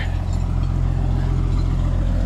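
A tractor engine runs steadily nearby, a constant low rumbling drone with no pauses or revving across the short stretch.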